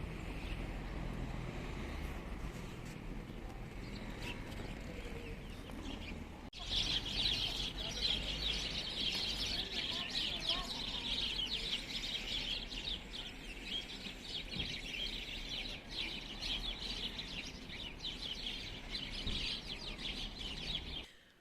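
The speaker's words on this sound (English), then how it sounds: "Hope you can hear the birds." Outdoor backyard ambience with birds chirping continuously in the background, a steady bright twittering, faint and distant, with a little rustle and hiss.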